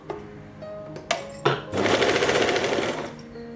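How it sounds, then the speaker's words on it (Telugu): A sewing machine stitches a long straight line, a few short clicks and thumps while it is set up, then a fast rapid rattle of stitching that runs steadily for about a second and a half, close and clear. "పెద్ద కుట్టు పెట్టుకుని జస్ట్ ఒక లైన్ ఇలా స్టిచ్ చేయండి"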